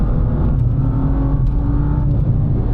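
A loud, close BMW M2 (F87) engine roaring steadily under hard acceleration, a deep rumbling drone that holds throughout with no voices.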